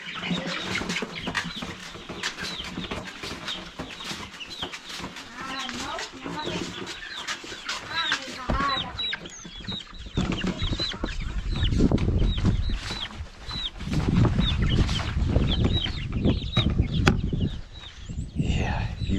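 Laying hens cluck and squawk continuously while being moved to a pasture coop, with wing flaps and rustling nearby, while people talk intermittently over the flock.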